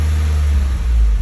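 Honda Civic engine with a check engine light and a temperature gauge fault, idling loud and close with a deep uneven rumble that rises and dips as it surges.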